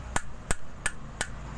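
A hammer strikes an electric fan's aluminum stator in five sharp, evenly spaced metallic blows, close and clear with no talk.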